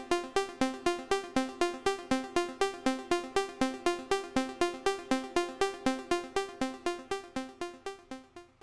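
A VCV Rack synth sequence, a PS16 driving Cornrows X, repeats a plucky three-step note pattern in a fast, even pulse of sharp attacks and quick decays, steady and alone.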